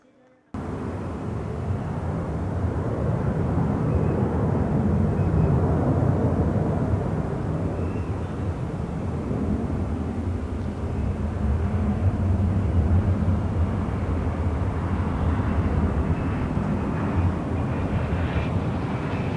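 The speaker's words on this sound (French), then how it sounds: "Au décollage, un avion de transport multimission de nouvelle génération" A KC-390 military transport aircraft's engines roar continuously and loudly on takeoff at the Paris Air Show, Le Bourget, a steady deep rumble holding from start to finish after a brief quiet opening.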